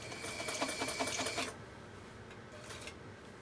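A Japanese 1.3 amp Elgin 2468 sewing machine stitches in a fast, rattling burst for about a second and a half, then falls to a quieter whir with a short flurry of stitching afterward.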